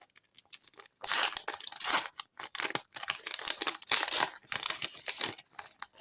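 A paper packet is torn open in several ripping bursts with crinkling between them, close and fairly loud, with no talking.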